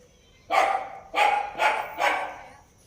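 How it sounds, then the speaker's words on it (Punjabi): A dog barks four times in a quick, evenly spaced series, fairly close and clear against a quiet background. "ਇਹ ਖੇਡਦਾ ਫਿਰਦਾ ਕੁੱਤਾ ਉਹਨੂੰ ਭੌਂਕੀ ਜਾਂਦਾ"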